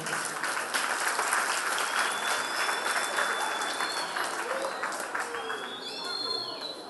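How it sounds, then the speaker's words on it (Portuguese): A steady wash of audience applause fills a hall for a speaker at a formal ceremony, dense and even throughout at moderate distance, with faint voices faintly audible beneath. "Um forte aplauso."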